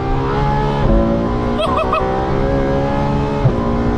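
A Ferrari F12 engine roars steadily at high revs, droning loud and close, with a brief chirping squeak partway through.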